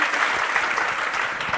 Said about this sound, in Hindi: तो एक बार सुना के लिए जोरदार ताली